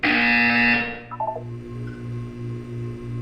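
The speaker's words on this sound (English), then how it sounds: "You will hear a buzzer." A loud electronic buzzer from the Portal 2 video game blares for under a second, then cuts off, leaving a low hum and faint beeps.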